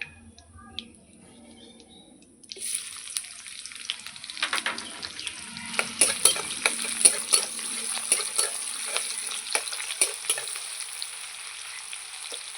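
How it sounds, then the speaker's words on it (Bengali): Chopped onion drops into hot oil spiced with five-spice seeds and starts a steady, bright sizzle and crackle that carries on to the end, with scattered clinks and stirring scrapes close by. "আমি একটা পেঁয়াজ কুচিয়ে নিয়েছি এই পেঁয়াজটাও দিয়ে দেবো তেলের মধ্যে"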